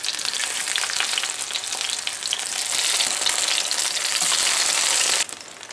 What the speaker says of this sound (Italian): L'olio è caldo, aggiungo i pomodori.